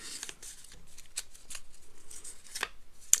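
Playing cards are shuffled close up, a quick series of soft riffling and snapping bursts with no talking.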